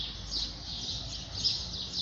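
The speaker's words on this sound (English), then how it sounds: "you could hear the birds singing" Birds singing at a distance, a faint high chirping that runs steadily over a soft background hush.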